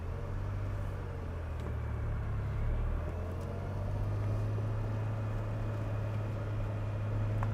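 A 1981 DeLorean driving slowly in first gear, giving a steady, quiet low engine drone with a smooth, even hum and no talk over it.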